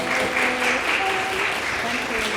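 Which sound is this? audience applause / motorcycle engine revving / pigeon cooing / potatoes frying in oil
audience applause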